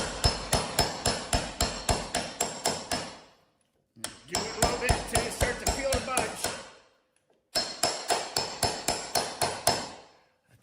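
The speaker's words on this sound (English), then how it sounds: "you're gonna be hitting this with the hammer" A hammer strikes a manual impact driver set on a rusted bolt of a Jeep Wrangler YJ during restoration, delivering three bursts of rapid, evenly spaced loud metallic blows with brief pauses between them.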